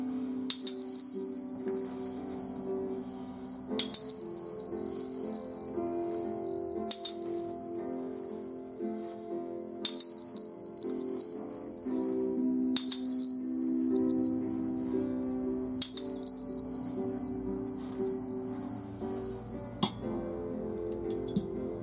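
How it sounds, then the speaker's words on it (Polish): An aluminium Energia 1 tuning fork set rings with a steady, pure, high sustained tone, struck again about every three seconds with bright metallic pings over a soft low hum, with no voices. "proponuję zastosowanie jeszcze zestawu kamer tonów Energia 1 z aluminium, który potrafi rozbić wszelkie negatywne wibracje"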